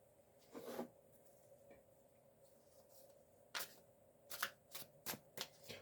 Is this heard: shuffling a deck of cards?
yes